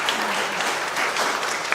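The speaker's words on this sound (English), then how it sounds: "We have a round of applause at least before the questions start." Audience applause fills a room at a live-streamed conference in Conway Hall, steady dense clapping at moderate loudness throughout, with no voices over it.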